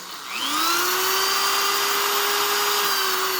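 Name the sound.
drill bit drilling through metal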